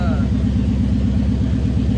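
Nissan 240SX engine running, a close, loud, steady idle with an even low pulsing throb and no revving.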